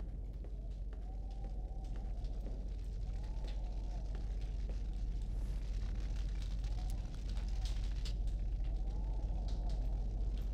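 A crackling campfire burns steadily at the Camp of the Invisibles in Fahrenheit: Indigo Prophecy Remastered, a constant low rumble with scattered pops over a faint background, under occasional voice-like tones.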